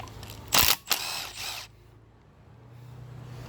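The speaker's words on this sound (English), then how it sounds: "I'm using a Milwaukee impact wrench here. So we'll go ahead and take those out." A Milwaukee impact wrench backs screws out of a Rolls Royce rear hub: a sharp, loud rattling burst followed by a couple of shorter buzzing bursts within about a second, then quiet workshop background.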